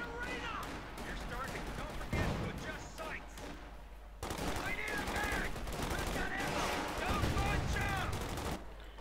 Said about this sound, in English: Nice bit of shooting there.